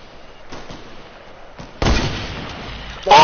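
First-person shooter game gunfire comes in a few sharp, isolated shots followed by a loud sustained burst of blasts, all close and punchy with no talking.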